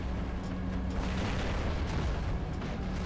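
A robot's weapon firing in the War Robots game at close range, a dense, loud, continuous roar of blasts and rumble with no clear gaps.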